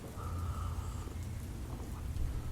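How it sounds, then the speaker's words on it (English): Steady rain pours through a dark stormy night, a dense continuous hiss with low rumbling underneath that suggests distant thunder, heard alone without any voices. "What a night to be meeting like this, huh? Dark and stormy night."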